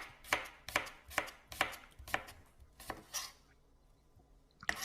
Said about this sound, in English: we use the very tip of the knife to cut thin vertical slices into the garlic clove